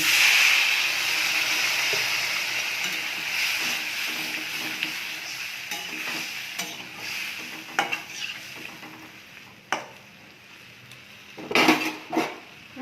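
Water hits a hot pan with a loud hissing burst that slowly fades, followed by sharp clinks of a utensil against the pan.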